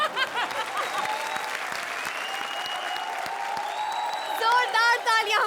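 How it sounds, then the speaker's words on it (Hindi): A studio audience at a comedy show applauds steadily throughout, a dense sustained clapping with a host's voice and music sounding over it. "जोरदार तालियां हमारे चैलेंजर्स के लिए।"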